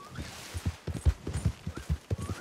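Horse hooves clip-clop at a steady walking pace in a video game, a fairly close, soft, rhythmic thudding with no talk over it.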